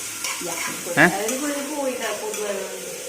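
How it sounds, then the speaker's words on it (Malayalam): Ingredients for a prawn roast being sautéed and stirred in a pan, giving a steady close sizzle with a sharp clink near the start, while a voice speaks over the cooking. "നമുക്ക് അങ്ങനെ പാനിൽ വഴറ്റിയെടുക്കാമല്ലേ"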